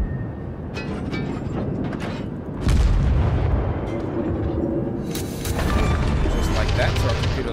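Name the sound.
ship guns firing AP shells in World of Warships video game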